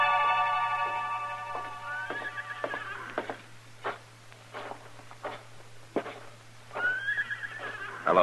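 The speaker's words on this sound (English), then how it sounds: "Where did you leave your horses, Jesse?" A horse neighs as a radio drama sound effect in a western setting: a long whinny opens, followed by a series of scattered hoof clops and knocks, then a second whinny near the end, clear and close.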